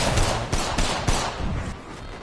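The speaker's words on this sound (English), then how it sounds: "Heads up, we got an airstrike on us." Apex Legends airstrike hitting nearby: a rapid, dense barrage of heavy blasts and gunfire-like cracks, loud and continuous for about two seconds, with sharp impacts at regular intervals that fade slightly toward the end.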